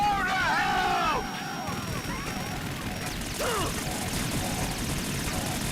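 Gunfire and explosions from the video game Metal Gear Solid 2 crack out in several bursts among whooshes and sweeping effects, with a player's voice talking over the game audio.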